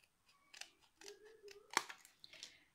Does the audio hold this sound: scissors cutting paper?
yes